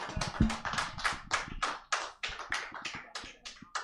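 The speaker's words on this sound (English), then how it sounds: "We should be applauding Dan like that every day." A small crowd claps and applauds at a live comedy show, a dense patter of hand claps in quick rhythmic bursts, fairly close and steady for a few seconds with no voices over it.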